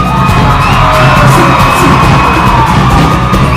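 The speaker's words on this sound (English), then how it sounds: "I'd like you guys to give a round of applause to the PSU ladies." A large audience at a Pasifika student union luau claps and cheers loudly and steadily, with whoops and yells in a dense, continuous wash of crowd noise.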